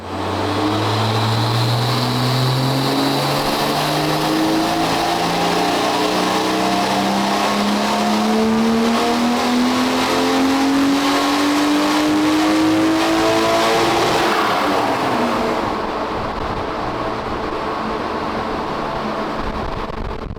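A turbocharged Toyota 1JZ engine of European spec revs up loudly and steadily, its pitch climbing smoothly over many seconds before it drops off and settles to a lower idle-like drone.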